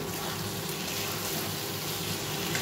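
Spices and green chilli sautéing in a pan for egg curry, a steady, close sizzle with a continuous hiss throughout and no talking.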